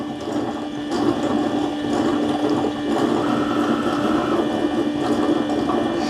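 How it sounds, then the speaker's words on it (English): A Eufy robot vacuum-and-mop dock washes its spinning mop pads, with pumps humming and water sloshing and gurgling in a steady, close, mechanical churn and no voices. "You'll hear a couple pumps kicking on. The clean water tank is putting water down there. The mop pads are spinning"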